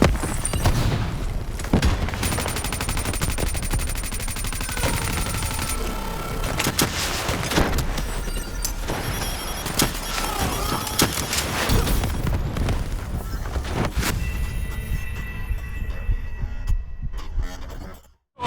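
Sustained heavy gunfire and explosions from the video game Call of Duty: Black Ops III, a dense, loud barrage of shots and booms running without pause for most of the stretch before cutting off abruptly.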